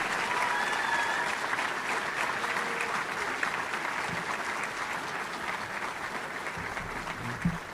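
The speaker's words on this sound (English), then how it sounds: "another round of applause for our graduates" Sustained applause for graduates at an industrial engineering and operations research graduation ceremony, a broad steady roar of many hands clapping that holds evenly and slowly tapers near the end.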